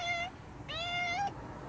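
A stray cat meows twice up close, a short clear mew followed by a longer drawn-out one that rises at the end, against a quiet room background.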